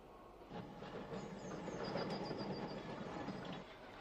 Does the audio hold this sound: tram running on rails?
yes